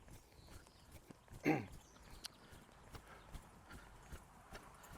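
Ridden horse trotting, soft hoof clip-clops in an even rhythm, faint and fairly distant, with one louder thump partway through.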